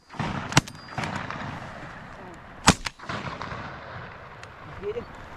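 Shotgun blasts ring out at ducks during a rainy Alabama opening-day hunt, two sharp loud reports standing out among fainter shots and rustling, with hunters' voices around them.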